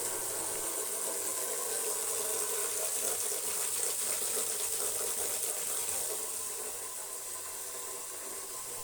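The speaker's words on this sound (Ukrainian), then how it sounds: "Наливаю в тазик тепленьку водичку" Warm water pours steadily into a basin, a close, constant rushing gush that holds for several seconds before easing slightly toward the end, with no talking.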